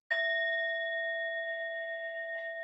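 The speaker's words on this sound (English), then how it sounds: "this is the bell that is going to guide us in" A single meditation bell is struck once and rings on alone with a long, steady, clear sustained tone that fades only slightly over a few seconds, close and fairly loud, with no voices.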